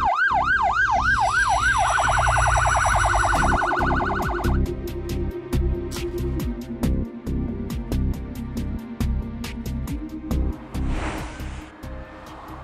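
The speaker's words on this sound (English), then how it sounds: "Loud sirens and flashing blue lights warn other road users of an approaching emergency vehicle" Emergency vehicle siren, a loud wailing tone that switches to a fast yelp, then fades into clattering road noise with sharp rhythmic clicks and a brief horn-like burst near the end.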